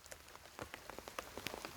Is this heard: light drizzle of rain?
yes